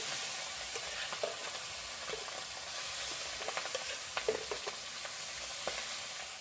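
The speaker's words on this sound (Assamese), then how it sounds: "মই এতিয়া মাছখিনি ভাজি ল'ম।" Pabda fish sizzling steadily in hot oil in a home kitchen, a soft continuous crackle with occasional sharper pops, close and fairly quiet.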